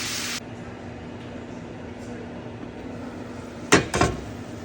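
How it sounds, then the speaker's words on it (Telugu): A metal lid set down on a pan of prawn curry with tomato, two close clanks near the end after a quiet stretch of low kitchen hum. "ఇప్పుడు కొంచెం మూత పెట్టేసి ఒక 2 మినిట్స్ మగ్గనిద్దాం"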